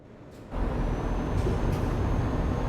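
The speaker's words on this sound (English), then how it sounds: "This truck's louder than the last." A loud truck engine in Euro Truck Simulator 2 jumps from a low idle to a strong, steady roar, with faint hissing bursts over the constant rumble.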